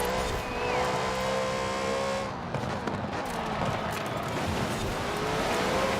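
A 2015 Lexus RC F sliding on the road in Forza Horizon 4, engine droning steadily with a rising tire squeal as the car loses grip, loud and continuous without voices.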